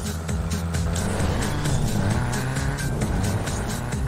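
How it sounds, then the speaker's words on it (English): A car drifts in a Wii Need for Speed racing game, its engine droning steadily while the tires squeal and skid continuously, loud and close throughout. "Seriously, this car is so slow while drifting."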